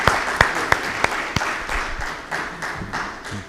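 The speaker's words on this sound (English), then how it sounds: "Give him a hand of applause." At a business summit, an audience gives a short round of applause: a few sharp, distinct claps stand out early, then the clapping thins into a scattered patter that tapers away.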